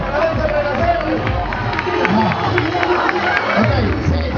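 A carnival crowd at a street celebration in Tacarigua cheers and claps for a dance troupe, a dense steady roar of hands and voices close by with chatter mixed throughout.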